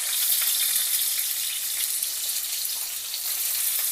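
Potato pieces dropped into hot oil, a dense bright hiss of frying that holds steady and close for a few seconds with no other sounds.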